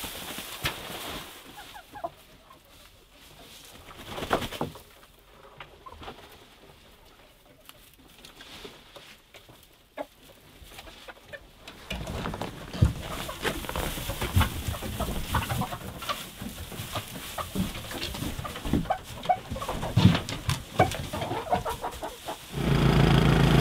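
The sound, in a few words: Icelandic chickens clucking in the snow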